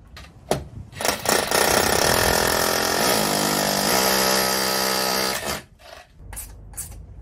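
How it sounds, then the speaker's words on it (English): A rotary hammer drill roars loudly for about five seconds while drilling into a wall, steady and harsh, then stops, with short knocks before and after. "I'll drill those marks with the rotary hammer now."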